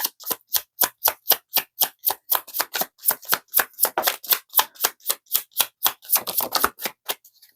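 A deck of tarot-style reading cards being shuffled by hand, a rapid run of crisp, evenly spaced riffling snaps, close and clear with no talking.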